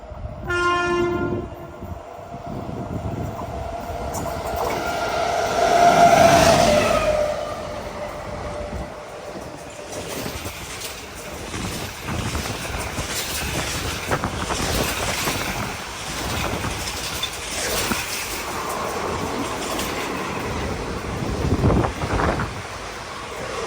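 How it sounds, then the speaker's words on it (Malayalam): Mangaluru–Chennai Mail hauled by a WP7 locomotive rushing past at speed, opening with a horn blast and followed by a sustained roar of rolling coaches and wind. "Mangaluru central MGR Chennai central mail ഇതുവഴി കടന്നു പോവുകയാണ്. നല്ല സ്പീഡുണ്ട്."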